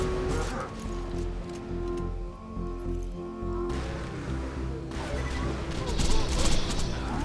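Gunfire in Borderlands 2 pours into the pumpkin boss Jacques O'Lantern, a dense run of game weapon shots and impacts mixed with loud in-game effects, with a voice speaking over it throughout.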